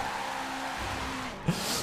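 A car in the Forza Horizon 4 racing game drives along a road with a steady engine drone, a brief tire squeal or skid near the end, and no talk over it.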